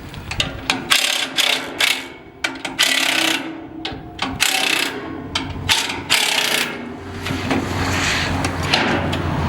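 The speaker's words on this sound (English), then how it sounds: "In here there's 4 bolts, and I'm just going to loosen them." A ratchet wrench loosens four bolts on a New Holland combine, giving quick bursts of clicking strokes with short pauses between them, close and fairly loud.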